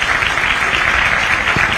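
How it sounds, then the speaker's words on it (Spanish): Audience applause for the Carlos Paz symphony orchestra at a winter season launch, steady dense clapping, loud and close, with no voices over it. "me gustaría que le den un aplauso"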